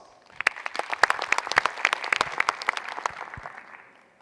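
A small group claps for a few seconds welcoming a speaker, the applause swelling quickly and then tapering off.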